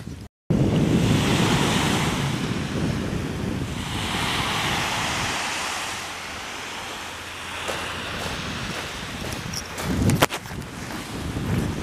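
Sea waves break and wash onto the shore in broad, rolling surges, steady and fairly loud, with gusts of wind buffeting the microphone and a brief sharper splash near the end.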